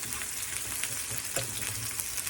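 Something sauteing in a pan ahead of the ground beef for a mashed cauliflower pie, giving a steady, fairly faint sizzle with a couple of soft utensil taps.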